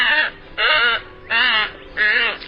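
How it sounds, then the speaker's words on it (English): A tricolored heron, Egretta tricolor, gives four loud, harsh, croaking calls in an even rhythm, each lasting about a third of a second and separated by short gaps, heard close and alone. "The tricolored heron, Egretta tricolor."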